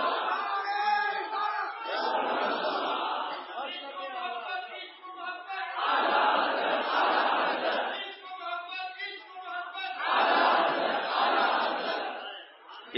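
A large crowd at a religious gathering chants a slogan in loud unison, three swelling shouted responses spaced a few seconds apart with a lone leading voice between them.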